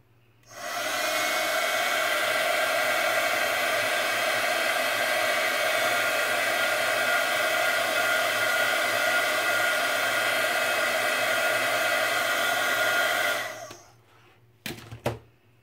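A heat tool warming a cardstock circle blows a steady, loud whirring roar for about thirteen seconds, then cuts off, followed by a few faint clicks and handling sounds.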